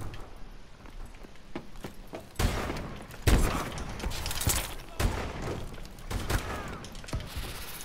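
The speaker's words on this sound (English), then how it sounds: "Sniper fire!" Gunfire in the video game Call of Duty: Advanced Warfare, sharp loud shots and thuds in irregular bursts with mechanical clatter between them, some near and booming, others softer.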